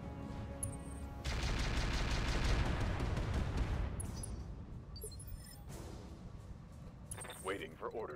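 Heavy weapon fire and explosive booms from the Roguetech mech game, a dense rumbling barrage lasting several seconds before fading under quieter game sounds and talk.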